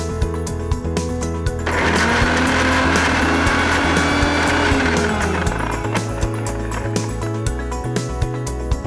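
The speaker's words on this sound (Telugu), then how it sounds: "మిక్సీ చేసేసుకుందాం." A kitchen mixer grinder whirring loudly at close range, its motor rising in pitch as it runs for several seconds over steady background noise, then cutting off, with sharp clicks scattered throughout.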